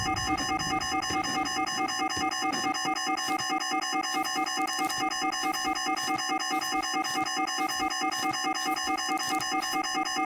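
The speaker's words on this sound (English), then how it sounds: "Hate the alarm sounds in this game." Repeating electronic alarm tones from the video game Shadows of Doubt, a steady, dense pulsing beep pattern sounding continuously and fairly loud throughout, with no talking.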